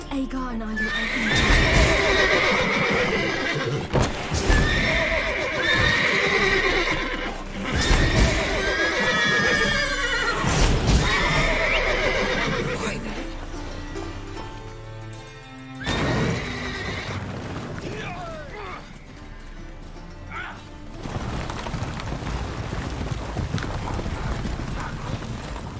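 Repeated horse whinnies and neighs with clattering hooves in Witcher 3: Wild Hunt, loud and close at first, then fading into quieter hoofbeats and background game noise, with a voice talking over parts of it.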